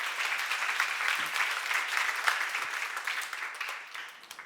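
Audience at a church seminar applauding, a dense, steady patter of many hands clapping that gradually fades toward the end.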